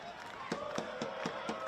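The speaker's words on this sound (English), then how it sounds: "You hear the crowd making plenty of noise." Crowd at a football match between Canberra Croatia and Preston Lions in the Australian Championship: a steady distant murmur of fans with a few sharp claps or thumps under it, and a voice talking faintly.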